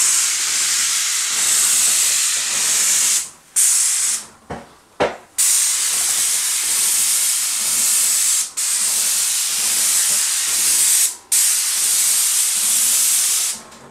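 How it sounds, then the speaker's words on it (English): A paint sprayer spraying a popcorn ceiling, giving a loud continuous close hiss that breaks off several times in short pauses as the trigger is released and pressed again. "So as I learn how to use this paint sprayer for the very first time"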